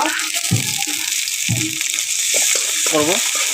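Green chilies and ginger fry in a pan for a lentil dish with hilsa fish, a steady sizzle running underneath with several louder bursts of stirring and clatter close by.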